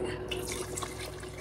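Water is added to rice for prawn biryani cooked on an electric stove, a steady close splashing pour that runs unbroken for the whole moment with no voices.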